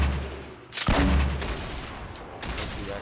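Gunfire in Fortnite played on a controller: a loud burst of shots near the start, then a second volley near the end, with a lingering hiss between them.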